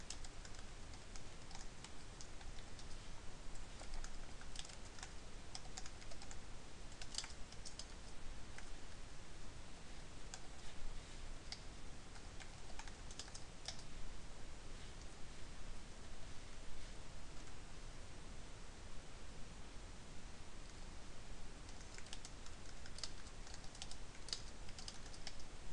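Steady computer keyboard typing while writing code, continuous fast clicking keys with small pauses, quiet and close over faint background hiss, no speech for nearly half a minute.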